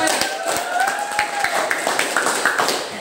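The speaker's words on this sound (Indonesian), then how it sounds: "tepuk tangan untuk kita semuanya" A classroom group claps together in a lesson about pressure, giving close, uneven handclaps with distinct sharp hits among the rustle of a few voices in the background.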